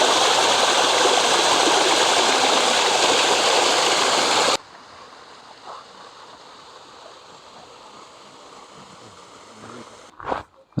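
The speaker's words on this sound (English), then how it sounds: "I love the sound of water in a garden." Loud rushing water in a garden fills the first few seconds, then cuts to a quieter outdoor background with a brief knock near the end.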